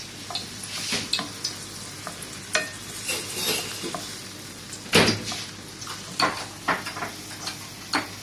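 Tomato added to an Arabic omelette of egg and onion frying in a pan, a steady sizzle with repeated scraping stirs and a sharp utensil knock midway.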